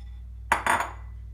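Bravo yogurt powders being mixed in a container, a couple of quick close clinks and scrapes of a utensil against the vessel, brief and alone in a quiet room.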